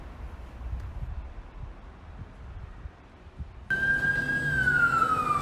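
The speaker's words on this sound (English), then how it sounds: "So with the inevitable London siren" Low street rumble in Ealing, London, gives way to a loud emergency vehicle siren that starts abruptly and wails close by, falling in pitch.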